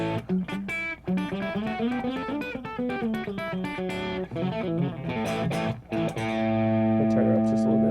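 Clean electric guitar playing a melodic phrase through a Fractal Audio amp model with reverb only and drive off, ending on a sustained ringing chord.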